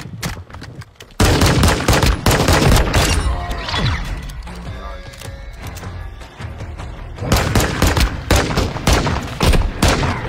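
Rapid bursts of video game gunfire in a duo match, loud volleys and fusillades with machine-gun rattles and thuds, a busy stretch at the start, a quieter middle, then heavy firing again near the end.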